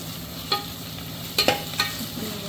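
Green chillies sautéing in a pan for chicken dum biryani, with soft sizzling under a few distinct scrapes and clinks of a spoon stirring, close and fairly quiet.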